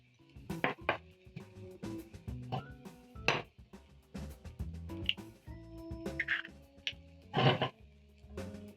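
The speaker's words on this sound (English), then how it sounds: "I'm going to be cracking in 3 eggs in a small bowl" Three eggs cracked one after another into a small bowl while eggplant and zucchini soften for an omelette: scattered sharp taps and shell clinks against the bowl, close by, over faint kitchen clatter.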